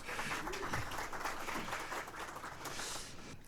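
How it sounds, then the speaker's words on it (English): Faint applause from an audience at a talk on AI-assisted workflows, a light patter of clapping heard from a distance that holds steady, then thins slightly. "An applause to Ramon."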